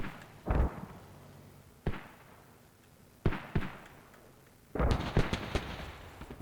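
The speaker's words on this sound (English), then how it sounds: "we have another long barrage going right on Solnicki" Artillery rounds from a barrage in the video game Squad land in four separate bursts of booming blasts at irregular intervals, and the last impact rumbles on longer than the others. No voices are heard.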